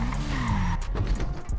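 A golf cart driving in the game GTA RP: a revving motor hum with skidding tire squeal, loud and close, ending in scattered rattles and thumps.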